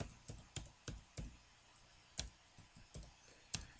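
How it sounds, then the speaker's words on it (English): A password being typed on a computer keyboard, heard as a dozen or so separate key clicks at an uneven, unhurried pace, close but faint, with no talking. "And you have to retype it twice,"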